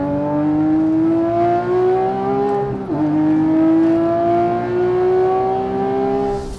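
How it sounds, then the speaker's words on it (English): Porsche 997.2 GT3 RS with its 3.8-litre flat-six, 450 horsepower, screaming up through the revs toward redline on a racetrack straight; loud and close, a sustained rising whine with a brief dip at a gear change. "Here down the straightaway is where you can feel this thing pull all the way to redline."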